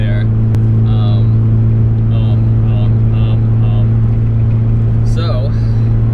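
Turbocharged Datsun 240Z Fairlady cruising on a flat Kansas highway, a loud steady low engine drone filling the cabin, with faint intermittent chirps and whistles above the constant hum.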